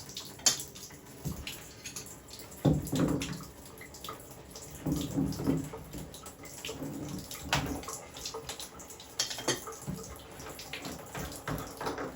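Water trickles and splashes out of mobile home bathtub plumbing as fittings are unscrewed, an uneven, soft running and dripping sound with occasional gurgles and clunks, close by and without talk.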